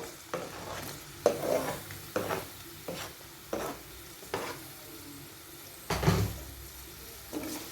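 Two large chopped onions with curry leaves fry in a pan for a Tamil chicken roast, stirred with a series of close scraping strokes over a steady soft sizzle. One heavier clank comes near the end.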